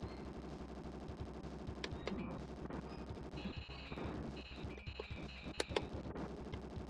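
Missiles and shots fire in a SNES shooting gallery game, a rapid run of clattering bursts over a steady game soundtrack, fairly quiet and without talk.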